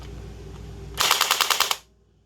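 A custom Gellsoft M4 gel blaster fires a rapid burst of about eight sharp, loud shots after a low motor hum, then cuts off to near silence.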